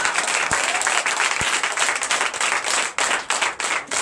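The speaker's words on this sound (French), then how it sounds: "je vous demande d'applaudir" A church congregation applauds during a Sunday service in Comè, Benin, with loud dense clapping running throughout and a couple of low thumps near the start.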